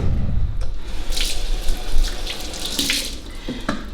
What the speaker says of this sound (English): the first thing we need to do is we need to wash our hands